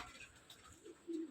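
Racer, madraj and giribaj pigeons coo faintly in a home loft, with a few soft low coos toward the end over quiet background noise.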